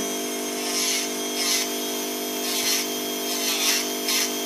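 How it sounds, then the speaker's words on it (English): A small electric nail drill whines steadily at high pitch on acrylic nails near the cuticle, with soft rhythmic grinding swells as it works the surface. "When using a drill around the cuticle area."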